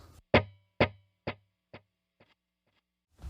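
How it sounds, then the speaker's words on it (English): A single guitar note echoes in a steady quarter-note delay, four or five repeats fading progressively quieter before another note begins. "we're going to have a quarter note delay"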